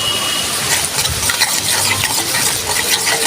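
Ginger and garlic paste frying loudly in a pan for an egg and potato curry, a dense continuous crackling sizzle with quick stirring clatter, no voices.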